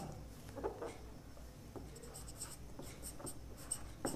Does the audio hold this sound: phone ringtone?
no